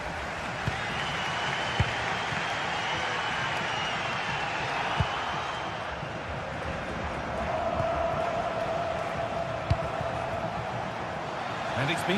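A football stadium crowd in a video game murmurs and applauds as a steady, distant roar, with a few sharp thumps, under a commentator's voice talking throughout.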